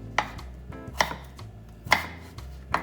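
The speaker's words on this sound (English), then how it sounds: "I'm just going to cut it into manageable sized pieces" Knife chopping a seeded vegetable into chunks on a cutting board, four sharp distinct chops spaced unevenly, close and clear with no talk.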